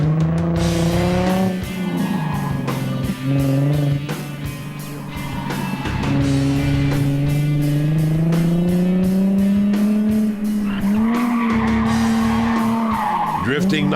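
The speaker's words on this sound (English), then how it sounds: "Drifting nicely, got through both gates." A car drifting through a course of gates, engine droning with rising and falling pitch as the tires squeal and skid continuously, loud and close, with a commentator talking over it.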